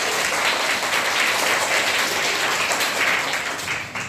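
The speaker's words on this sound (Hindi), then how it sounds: "तो एक बार जोरदार ताली बजा दीजिए।" A school class of students applauds loudly together in a dense, steady wash of clapping that holds for a few seconds and thins slightly at the end.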